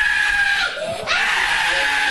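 A young girl in Gaza, badly burned by a bomb blast, screams in pain: a loud, sustained, high-pitched cry that breaks briefly before resuming.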